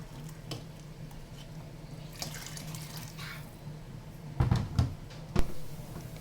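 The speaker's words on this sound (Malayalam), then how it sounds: "ഇനി നമ്മളിതിലേക്ക് വെള്ളം ഒഴിച്ചു കൊടുക്കുക" Water pours and splashes into a cooking pot of rice for ghee rice, ending with a couple of louder metallic knocks and clatters close by.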